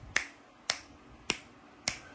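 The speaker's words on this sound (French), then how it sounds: "c'est quand on claque des doigts" Four crisp finger snaps ring out alone at an even, unhurried pace, each one sharp, close and clearly separated by brief quiet.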